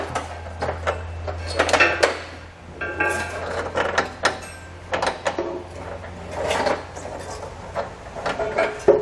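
A Curt trailer hitch receiver is shifted into position under a 2020 Ford Explorer, giving irregular faint metallic clunks, knocks and scrapes over a low steady hum.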